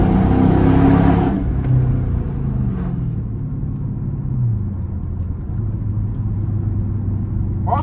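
A Dodge Charger R/T with about 150,000 miles rumbles while driving. A loud engine surge at the start settles into a steady, close, low drone with no talking.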